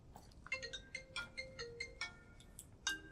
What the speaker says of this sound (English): Sam's phone rings from a friend and she answers it.